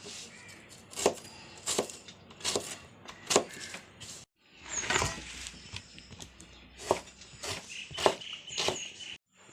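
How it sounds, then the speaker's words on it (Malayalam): A knife chops vegetable pieces for sambar on a board, with about a dozen sharp, close knocks in an uneven rhythm and a short pause midway. "കഷ്ണങ്ങളൊക്കെ നുറുക്കി കഴിഞ്ഞു"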